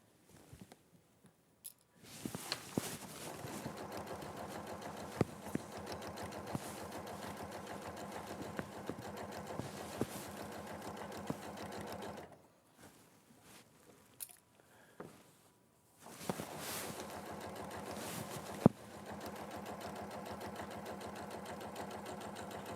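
A sewing machine stitches a printed needlecord in two long bursts of fast, even mechanical whirring, broken by a short quiet pause and a few faint clicks, close and fairly soft.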